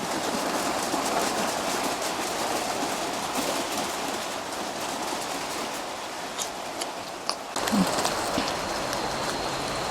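Rain falls steadily in a continuous, even hiss during a rainy spell, with a few brief clatters near the end.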